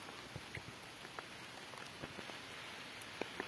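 Rain falls steadily at Lourdes at daybreak, a soft, even hiss with scattered faint drop ticks and no voices.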